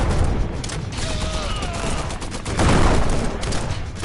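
Rapid bursts of virtual gunfire in the VR shooter Guns n Stories: Bulletproof, loud and repeated shots crackling over a busy game mix, swelling heavier toward the end.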